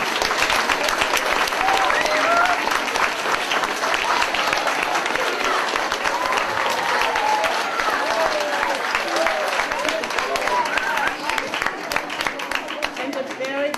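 Sustained, dense applause from an audience at an eighth grade capstone presentation day at a charter public school, steady clapping filling the hall for well over ten seconds with a few faint voices mixed in.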